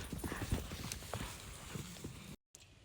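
Horses walk out to a green pasture, their hooves clip-clopping in a close, steady, uneven patter across the ground, with one short dropout near the end.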